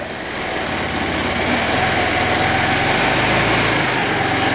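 A GY6 150cc scooter engine idles steadily while warming up, a continuous loud, buzzy drone with a low throb that holds even throughout, with no talking.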